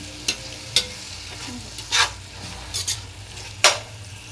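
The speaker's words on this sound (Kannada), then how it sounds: "ಇವಾಗ ಟೊಮೆಟೊ ಚೆನ್ನಾಗಿ ಫ್ರೈ ಆಗಿದೆ ಮಸಾಲೆ ಜೊತೆ." Chopped tomatoes cooking with masala in a pan for chicken biryani, a soft low sizzle under a handful of sharp spoon scrapes and stirring clatters spaced irregularly, close by with no talking.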